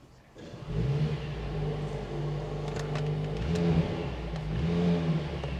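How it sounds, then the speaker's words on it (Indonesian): A 2024 Mercedes-AMG C63 S starts with a quick burst and then idles and revs in waves, a close, loud engine whose pitch rises and falls across several blips. "sekarang kita cari tahu bagaimana suara dari C63S ini. Kita nyalakan langsung."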